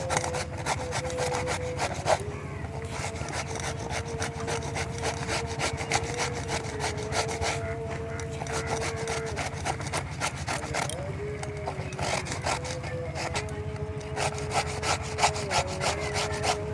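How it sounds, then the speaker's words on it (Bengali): Pumpkin being grated on a hand grater for vegetable pakora, a steady run of close rasping, scraping strokes that repeats without pause, with faint background noise and a brief low tone under it. "এবার আমি কুমড়োটা একটা গ্রেটারের সাহায্যে গ্রেট করে নেব"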